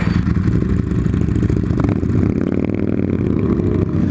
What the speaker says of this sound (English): And we're surrounded by Harleys.